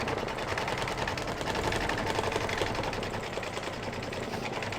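A sewing machine quilting a small Halloween table runner, its needle running in a fast, steady, even stitching rhythm from start to finish, close and alone without talk.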